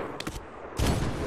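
Gunfire in the Medal of Honor video game: a couple of quick sharp shots, then a heavier burst that rings out loudly to the end, with no talk over it.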